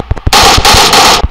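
Rapid automatic gunfire from the PUBG Mobile zombie mode crackles in a loud, sharp burst after a few quick single shots, all close and dense.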